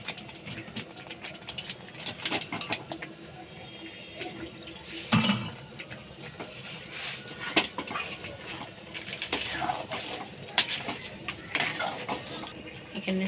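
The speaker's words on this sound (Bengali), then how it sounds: "এবার আমি এতে চিংড়ি মাছগুলো ঢেলে দেবো।" Prawns tipped into hot frying masala in a pan and stirred for Golda Chingri Kosha, with scattered clinks and scrapes of a metal spoon against the pan over a soft background hum, no voices.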